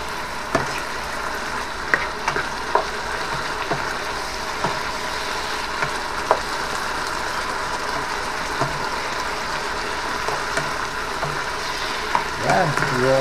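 Mixed vegetables with snow peas are stir-fried in a pan, giving a continuous close sizzle with scattered clicks and scrapes of stirring.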